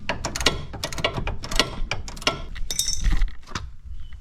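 An adjustable wrench turning a nut on the underside of a 2005 Ford Focus during control arm work, quick metallic clicks and clinks in an uneven close rhythm, some slipping and rattling as the tool is repositioned.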